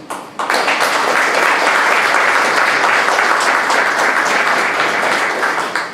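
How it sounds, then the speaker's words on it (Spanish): Audience applause at a commemorative colloquium marking the anniversary of the Constanza, Maimón and Estero Hondo expeditions: a dense, loud burst of clapping that rises sharply and holds steady throughout. "por quien pido un fuerte aplauso"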